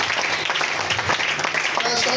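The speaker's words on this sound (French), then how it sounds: "Acclamons d'abord pour Abraham." An audience claps and applauds steadily and loudly throughout, a continuous wash of hands with no gaps.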